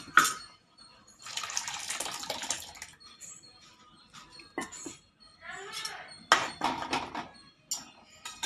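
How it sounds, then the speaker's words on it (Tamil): Mashed lentils are poured into a cooking pot in several short, wet, splashing bursts with pauses between them, and a voice is heard in between. "கடைஞ்சி வச்ச பருப்பை ஊற்றிக்கலாங்க"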